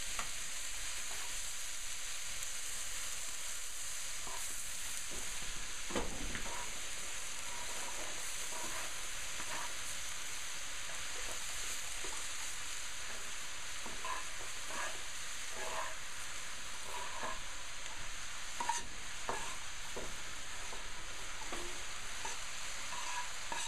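Vegetables stir-fry in a pan for an easy stir-fry, a continuous moderate sizzle with a thud near the start and scattered scrapes and ticks of stirring, steady and unbroken for a long stretch without talk.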